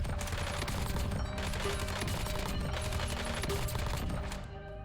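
Rapid sustained gunfire from a low-recoil gun in a first-person shooter video game, a dense continuous rattle of shots lasting several seconds, loud and steady with no pauses.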